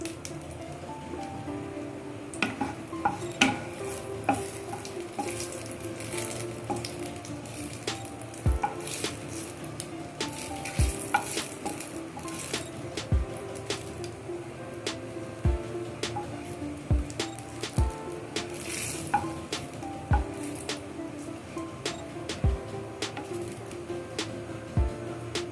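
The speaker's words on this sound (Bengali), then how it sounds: "তেল গরম হয়ে গেছে, এবার ফোড়নে দিয়ে দেবো শুকনো লঙ্কা আর কালো জিরে" Dried red chillies and nigella seeds sizzle steadily in hot mustard oil in a kadai, a continuous crackling fry with sharp pops and spoon clinks scattered through, no voices.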